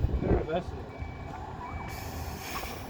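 A 13-metre tri-axle 57-seat coach reverses into a garage at a coach rally, its reversing alarm beeping steadily over a busy low rumble of engines and outdoor bustle, with faint voices in the background.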